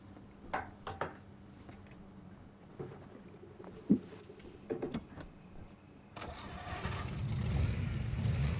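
A heavy truck engine in SnowRunner on PS5 cranks and turns over after a few clicks and clunks, then settles into a loud, steady rumble that continues to the end.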